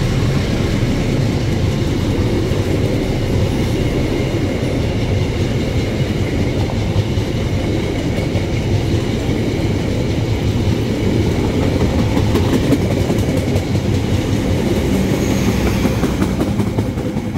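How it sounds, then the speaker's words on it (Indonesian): A commuter train arriving at Gondangdia station in Jakarta rumbles steadily nearby, with a continuous low roar and faint rhythmic clatter of wheels on rails throughout. "Jalur 1 dipersiapkan masuk tujuan Jakarta Kota jalur 1 rangkaian 8 kereta jalur 1."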